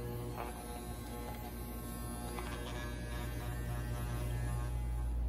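Electric hair clippers hum steadily at close range during a fade haircut, a constant motor buzz with light scraping passes, and no talk.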